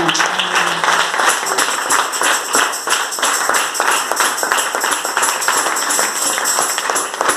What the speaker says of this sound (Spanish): Vamos a aplaudir a la palabra del Señor.